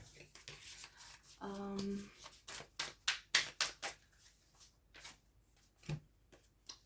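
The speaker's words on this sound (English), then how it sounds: "Let me shuffle more." Tarot cards are shuffled by hand, giving a burst of quick, crisp papery riffles and slaps in the middle, with softer handling before and after and a brief tone near the start.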